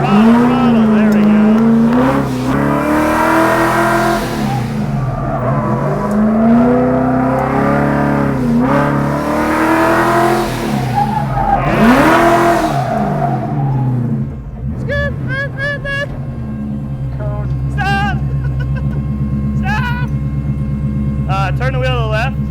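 A car drifts at a Ford festival, its engine revving in repeated rising and falling swells as the handbrake and throttle send it sliding, with tire squeal, followed by quieter idling; the engine is loud and close, and people talk.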